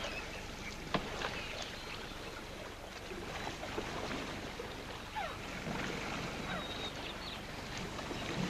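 Oars or paddles pulling a small boat through jungle river water, steady broadband splashing and wash with occasional sharper dips, wind noise throughout, no voices.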